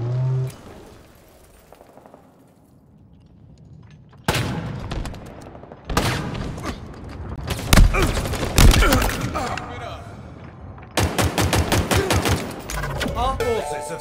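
Halo Infinite multiplayer gunfire comes in loud, dense bursts of rapid shots separated by brief quieter gaps. Game voice lines are heard over the shooting.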